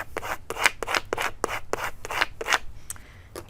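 A squeegee rubs and scrapes vinyl down onto a charger plate in a quick series of close, rasping strokes, about a dozen short passes with brief gaps between them.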